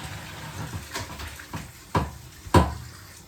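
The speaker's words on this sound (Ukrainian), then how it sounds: "Курочка проварилась у мене десь ну, 5 хвилин, і я її безжально виливаю" Boiled chicken broth poured from a pot into a colander in a home kitchen, heard as a watery splashing pour with a few clattering knocks of pot against colander, close and fairly quiet.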